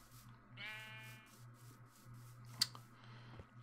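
A sheep in the video game Minecraft gives a single short bleat at close range, followed by a faint click, over quiet background music.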